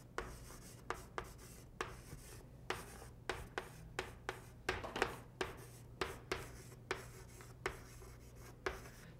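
Marker or chalk strokes on a board during a math lesson on adding integers, a steady series of short, crisp taps and scratches repeating about twice a second, quiet and alone.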